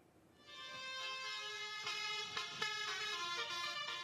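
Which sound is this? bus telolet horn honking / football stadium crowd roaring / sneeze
bus telolet horn honking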